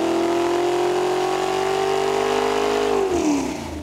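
A GM small-block V8 with a modern LS top end revs hard on a dyno through Pro mufflers. A loud, sustained exhaust drone holds a steady rising pitch, then drops away sharply as the throttle closes.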